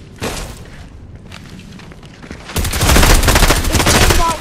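Weapon fire in Fortnite, a single sharp blast early on followed by a dense, loud burst of rapid explosive shots in the second half, close and punchy.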